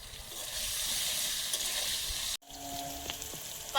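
Potato pieces frying in a pan with salt and turmeric give a steady close sizzle with stirring scrapes; a brief break comes before the frying resumes.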